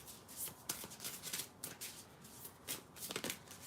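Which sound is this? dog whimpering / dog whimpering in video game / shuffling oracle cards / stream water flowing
shuffling oracle cards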